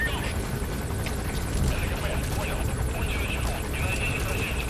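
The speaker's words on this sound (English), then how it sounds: "it seems like there's a helicopter on our tail" Helicopter in the video game Metal Gear Solid V, a steady broad rotor drone that persists throughout, with a voice talking over it and faint game effects.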